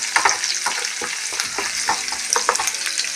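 Garlic and shallots fry in hot oil with a steady close sizzle, broken by repeated scraping stirs of a utensil against the pan, busy and fairly loud throughout.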